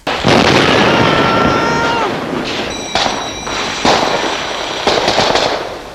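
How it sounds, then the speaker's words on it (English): A landmine goes off beneath an armoured train, a loud sudden blast followed by rumbling, crackling debris and a few sharper bangs that fade over several seconds. "their Panzerzug had just struck a mine that had been placed in their path"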